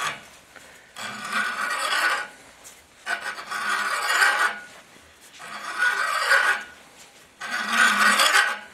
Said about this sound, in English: what I have here is a 5/8 reamer. Just going to set it in our bushing.